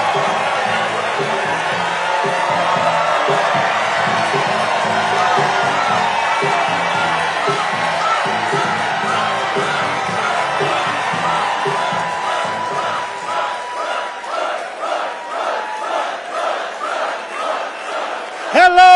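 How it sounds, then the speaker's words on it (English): A large crowd at a Joe Biden campaign rally in North Carolina cheers and shouts for about twenty seconds, loud and sustained, with rhythmic chanting swelling toward the end. "Wow, what a crowd!"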